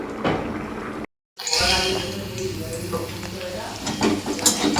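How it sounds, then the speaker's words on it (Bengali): Bitter gourd pieces frying in a pan, a steady close sizzle with stirring scrapes and a brief dropout of silence partway through. "এখানে উচ্ছে ভেজে নিচ্ছি।"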